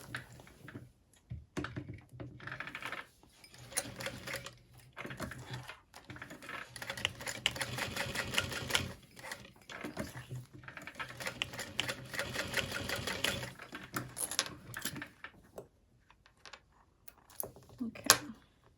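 A sewing machine runs a box stitch across a bag strap, a steady close mechanical whirr in bursts that pause briefly between passes of the stitching, with no talk over it.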